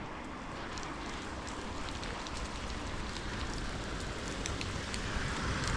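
Steady heavy rain from an early morning thunderstorm on a road in Sidi Bel Abbès, a dense continuous hiss of drops on surfaces with scattered louder patters, close and unbroken, with no voices.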